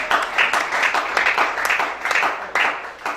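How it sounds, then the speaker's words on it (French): Church congregation applauding during a prophet's sermon, a dense steady clapping with rhythmic surges, fairly close and loud throughout, with no speech over it. "Acclame bien."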